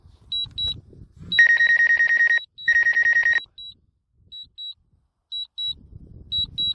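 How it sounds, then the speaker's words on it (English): A DJI Mavic 2 Zoom drone sounds its warning beeps: loud, shrill electronic tones repeated in short pairs, with two longer buzzing bursts in between. Low rumbling noise sits under the start and end. "The only thing that annoys me is that darn beeping."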